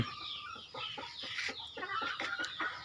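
A chicken clucks in a steady series of short, close clucks, with other fowl noise in the background.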